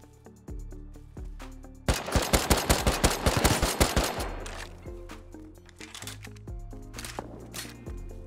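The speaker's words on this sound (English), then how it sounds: "That sounded like two guns." Gunfire from two guns in the survival game Rust: a rapid automatic burst of about a dozen sharp shots, loud and close, set between stretches of musical tones with no talk.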